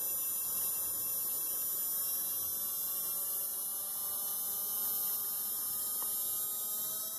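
Electric motor driven by pulse-width modulation at 5 kHz and 95% duty cycle, giving a steady, continuous high-pitched electrical whine with a faint hum underneath, unchanging and alone throughout.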